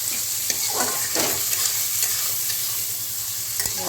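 Spices sautéing in oil for a katla fish curry, a steady close sizzle with irregular scrapes and stirring knocks from a spatula throughout, no voices.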